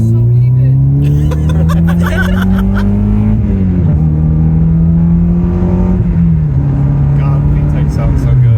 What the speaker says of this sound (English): God, VTEC sounds so good.